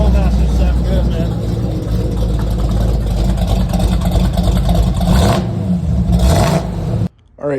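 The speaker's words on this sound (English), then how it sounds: "Flowmasters sound good, man." A 1968 Camaro RS with a 383 stroker engine and Flowmaster exhaust runs at close range, giving a loud, steady, throaty rumble that holds for about seven seconds before cutting off abruptly.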